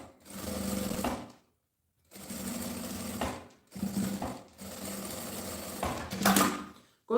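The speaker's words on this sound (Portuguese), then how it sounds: "costura com um pé de máquina" Domestic sewing machine stitching printed fabric panels for a handmade bag, running in four steady bursts of rapid whirring with short pauses between them, close and clear with no talking.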